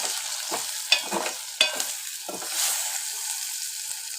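A spoon stirs chili powder into white brinjal curry frying in a pan, with a steady sizzle and several distinct scraping strokes at uneven intervals, close and moderately loud, no talking.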